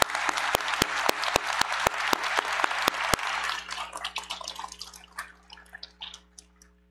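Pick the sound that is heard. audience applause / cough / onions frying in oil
audience applause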